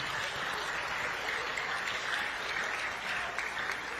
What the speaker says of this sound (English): give a round of applause for all your friends and family who are here to watch you this evening